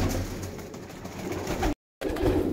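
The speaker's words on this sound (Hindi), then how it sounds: "भूखे हैं कबूतर, दाना डालना, चल डालते हैं दाना भी" Hungry pigeons coo softly in a low, throaty murmur while being fed grain, a dense nearby flock sound with a brief dropout partway through and no talking.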